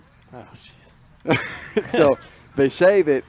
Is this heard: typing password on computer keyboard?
no